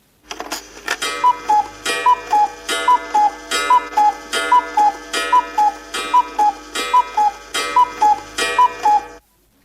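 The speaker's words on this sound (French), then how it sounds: "Il était une fois un coucou dans la pendule." A cuckoo clock chimes repeatedly, each two-note cuckoo call paired with a soft mechanical clack, about a dozen evenly spaced calls in a steady rhythm, close and clear with no talking.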